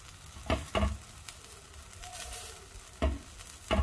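A spinach dosa, just flipped, sizzles softly in oil on a pan. A spatula knocks and presses against it in a few dull, close thumps between stretches of quiet frying.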